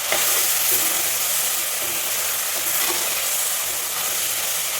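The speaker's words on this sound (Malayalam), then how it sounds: "ഇനി ഇതിലേക്ക് നമുക്ക് തക്കാളി ഇട്ട് കൊടുക്കാം. തക്കാളി ഇട്ട് നല്ലതുപോലെ ഇളക്കാം." Chopped tomato is stirred into sautéed onions for an okra curry, producing a loud, continuous hissing sizzle from the hot pan with soft scraping from the stirring.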